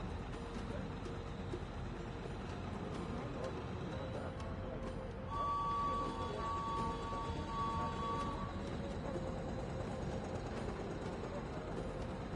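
Train rolling along in the Murder on the Orient Express video game, a steady low rumble with faint high squeals and a brief whistle-like tone partway through, under a quiet ambience.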